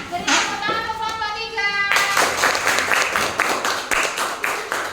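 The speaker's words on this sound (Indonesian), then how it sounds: "Silakan beri tepuk tangan untuk kelompok" Classroom of children clapping for a student group, a burst of close, rapid applause that starts abruptly and carries on steadily, preceded by a brief tonal sound and some children's voices.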